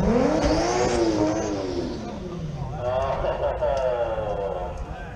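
A car engine revs hard at a Cleetus and Cars event in 2018, rising and falling in pitch as it is pushed and held, loud and close, while people talk over it.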